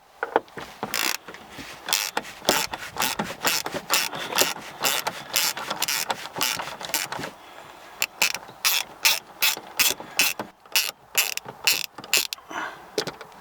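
A ratchet wrench loosens the screws on a steering column housing of a 2016 BMW 535i xDrive, making steady, rapid, close-up clicking bursts in repeated runs with short pauses between them.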